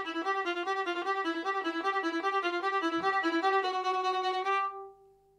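A string instrument plays a slow phrase of sustained bowed notes, ending on a held final note without vibrato that rings out and fades, clear and alone with no talking.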